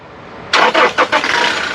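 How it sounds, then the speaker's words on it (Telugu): A 2017 Toyota Innova Crysta 2.5 diesel starts on a single crank after a quiet lead-in, with a brief burst of stuttering cranking and then a steady, loud idle close by. "సింగిల్ సెల్ఫ్లో కార్ స్టార్ట్ అవుతుంది"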